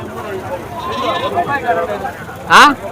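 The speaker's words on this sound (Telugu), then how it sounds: "ఈ బ్యాచ్ మనం చెప్పాం కదా ఇరవై మేకపోతులు జత పన్నెండు వేల ఐదు వందలుగా చెప్తున్నారు" At a busy Gudur livestock market, a goat lets out one loud, short bleat near the end, rising above someone talking steadily over the crowd's murmur.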